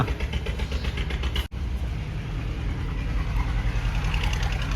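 A rough, steady improvised tractor engine idles up close, chugging and knocking with a low rumble, broken only by a brief dip in the middle.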